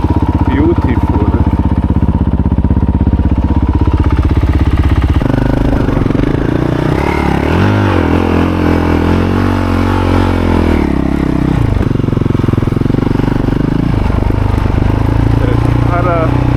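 A motorcycle climbing a rough mountain track in Chile, its engine loud and close throughout, with the pitch shifting as it labours and revs over uneven ground while the rider talks over it.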